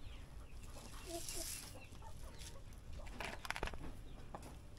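Black Australorp and Barred Plymouth Rock heritage chickens clucking softly while being fed fruit, scattered low clucks and pecking amid steady outdoor background noise, no talk.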